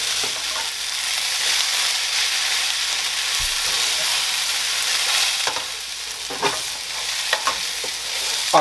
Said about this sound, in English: to my skillet here, just to wilt it.